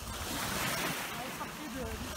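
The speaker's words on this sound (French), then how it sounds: "tellement grosse qu'il y a des vagues de 3 pieds" Waves of about three feet wash against a boat on open water in Quebec, a steady surging hiss mixed with heavy wind buffeting the microphone, close and continuous.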